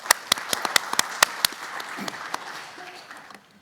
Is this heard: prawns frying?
no